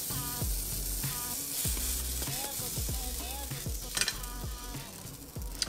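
A high-protein gluten-free vegan pancake sizzling steadily in a hot pan, with repeated soft scraping and tapping of a spatula as it is worked and flipped, close and continuous, with no talk.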